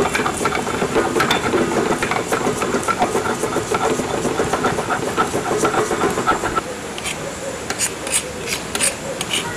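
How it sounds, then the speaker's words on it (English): Ginger and scotch pepper being ground on a traditional stone grinder, a steady gritty rasping and rubbing in a continuous back-and-forth rhythm, close and loud, softening slightly toward the end, with no talk. "cut them into small pieces to facilitate grinding on a traditional stone, traditional grinder"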